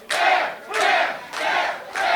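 A pro wrestling crowd chanting for Bear Bronson, loud rhythmic group shouts repeating four times in a steady two-beat cadence.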